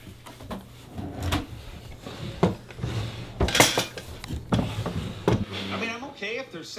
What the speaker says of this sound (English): Put a little bit in this bottom drawer so nobody's got to bring him none.